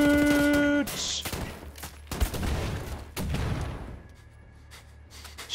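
Bursts of gunfire and explosions ring out in the video game Wolfenstein The New Order, with several sharp, loud, close blasts spread over a few seconds, following a brief tonal electronic sound at the start.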